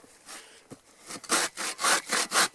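A repaired bow saw cuts through wood, a slow rasp at first, then five loud, regular push-pull strokes close by, each a broad scratchy burst with short pauses between.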